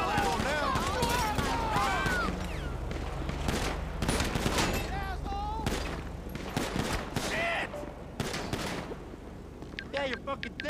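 Dense, sustained gunfire from a cops-versus-gang shootout in the video game GTA V, with rapid overlapping shots and bursts throughout, while voices shout over the fighting.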